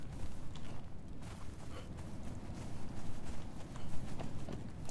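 Horse hooves in the video game Conan Exiles, a steady run of clopping hoofbeats mixed into a dense, rumbling game ambience at moderate loudness.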